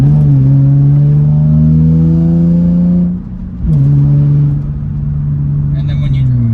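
A Nissan 350Z with an aftermarket exhaust holds a loud, steady revving drone, dips briefly near the middle, then picks back up and settles into a sustained rumble.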